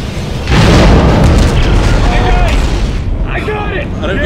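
Mines blowing up in the Dead Space 3 video game: heavy, booming blasts that swell into a sustained, rumbling roar, with voices talking over the chaos.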